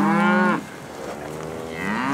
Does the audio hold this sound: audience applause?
no